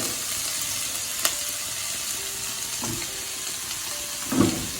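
Onions tossed into a pan of frying soya chunks keep up a steady, close oil sizzle, with a few sharp stir clatters and a brief louder spit near the end, and nobody speaking.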